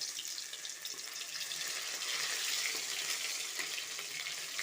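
Ginger fries in hot oil in a pan along with cumin seeds that have already crackled, giving a steady, dense sizzle that carries on close and unbroken, with no voices.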